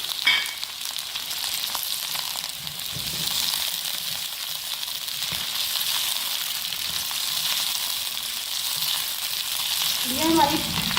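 Okra, onion and green chillies fry in hot oil, giving a continuous even sizzle with occasional stirring clicks, steady and close throughout, with a faint scraping near the end.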